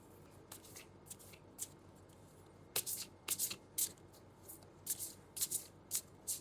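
Tarot cards are shuffled and drawn from a deck close by, with soft papery riffles and sharper flicks coming in quick clusters against a quiet room, with no talk.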